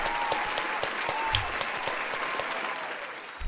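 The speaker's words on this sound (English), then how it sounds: "Round of applause." Sparse applause from a small group after a Chainsaw Man chapter review, a few distinct claps standing out over a dense, fairly quiet patter that runs steadily throughout.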